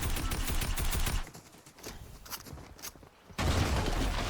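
Bursts of rapid gunfire in the Fortnite video game, loud and close, broken by a quieter stretch of scattered single shots before another heavy burst.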